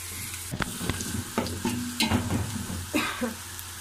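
Onions sizzling in a pan for potato pulao, stirred with repeated scraping strokes of a spoon against the metal over a constant close, moderate crackle.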